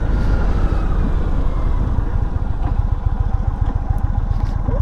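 A 2022 Indian Chief Bobber motorcycle engine idles close by with a steady, loud, low rumbling pulse that holds without pause throughout.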